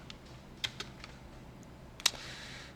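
A few light key presses on a computer keyboard, a Ctrl+Space combination, come as sparse close clicks with one sharper tap near the end over a quiet room hum.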